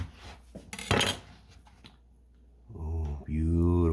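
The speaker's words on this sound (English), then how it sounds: "Let's cut this in half to get a good look at it." A knife slices a homemade piri piri charcuterie sausage in half, giving brief scraping cuts close by, followed by a person talking.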